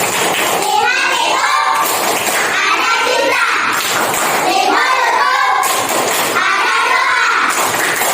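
Schoolchildren performing the tepuk sukses clapping chant, a loud, repeating pattern of group claps and chanted voices in regular bursts, close and continuous.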